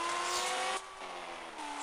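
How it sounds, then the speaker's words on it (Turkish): A Lamborghini drifts in the Car Parking mobile game, its synthetic engine droning steadily with a sustained tire squeal that drops off partway through, then resumes, heard alone without talk. "Çok güzel bir şekilde adamlar Lambo ile drift atıyorlar."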